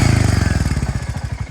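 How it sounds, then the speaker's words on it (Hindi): Royal Enfield Hunter 350 single-cylinder engine idling in neutral, a loud close steady thumping beat with a light ticking tappet clatter running through it, no talk over it. "आप लोग को थोड़ा सा आवाज़ सुना देते हैं इस गाड़ी का"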